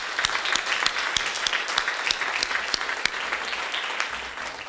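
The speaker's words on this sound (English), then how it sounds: "give everybody here, a student, a round of applause" An audience at a student ad campaign challenge event gives a round of applause, moderately loud clapping with distinct individual claps standing out from the steady wash throughout.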